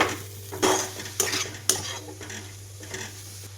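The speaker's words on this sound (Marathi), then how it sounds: "मी फक्त नारळ आणि गुळ छान एकजीव होईपर्यंत हे मिक्स करून घेणार आहे" Grated coconut and jaggery are stirred in ghee in a pan, with several distinct scraping strokes over a soft sizzle and a steady low hum, no talking.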